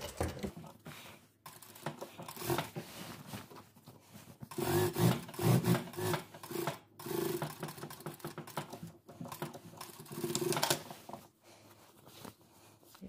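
A sewing machine runs a 0.5 stitch seam on a dress, giving bursts of close mechanical whirring and clatter with short pauses between runs, loudest in the middle stretch.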